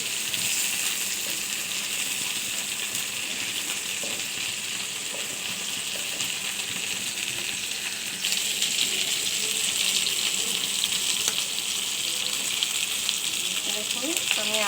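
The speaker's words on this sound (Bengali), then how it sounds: "বড় মাছ তেলে ভাজতে অনেক কষ্ট, অনেক রিস্ক" Large pieces of surma fish fry in hot oil in a pan, a steady close sizzle with bright crackle running throughout and a slight rise in intensity partway, no talking.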